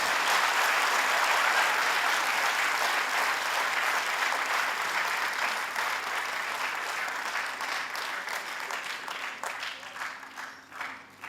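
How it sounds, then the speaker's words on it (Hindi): Theatre audience applauding after a stage play, a full, loud burst of clapping that holds steady at first, then thins out and fades toward the end into scattered claps. "एक बार तालियां बढ़िया से बजा दीजिए।"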